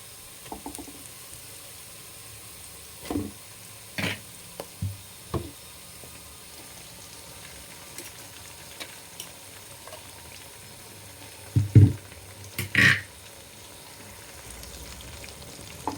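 Smashed gongura (sorrel) leaves added to fried onions in a pan, giving a quiet steady sizzle with a few soft knocks and scrapes of stirring scattered through, louder clatter near the end; no talking.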